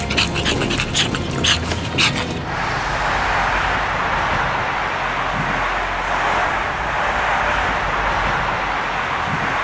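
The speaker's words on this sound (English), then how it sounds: "Release the therapy dogs." Therapy dogs panting rapidly and audibly up close, with a steady rush of road traffic behind them.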